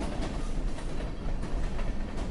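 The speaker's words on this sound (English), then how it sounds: "Can you hear that? A train!" A train rolls past in a steady, dense rumble that stays loud and unbroken throughout, with no voices over it.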